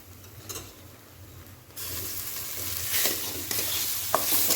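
Rice frying and being stirred in a pan for a vegetarian home-cooked dish, heard as a steady close sizzle that grows louder partway through, with occasional scraping stir sounds.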